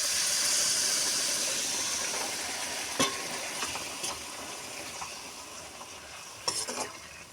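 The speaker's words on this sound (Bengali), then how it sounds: "এরপরে আমি পরিমাণ মতন জল অ্যাড করব" Water added to a pan of frying pointed gourd sets off a loud, steady steam hiss that slowly fades, with a few clinks of a utensil against the pan.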